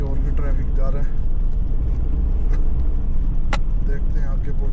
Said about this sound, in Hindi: यहाँ के और भी ट्रैफिक जा रहा है